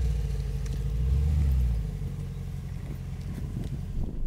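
A Mercedes-AMG G63 G-Wagon engine rumbles low and close during off-road driving, swelling briefly before settling into a steady idle-like drone.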